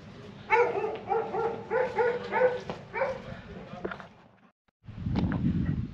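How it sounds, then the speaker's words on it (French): Several dogs bark in agitated, overlapping bursts near a roadside stop in Turkey, then fall quiet briefly before a low rumbling noise takes over. "Il y a les chiens qui sont en train de s'énerver là."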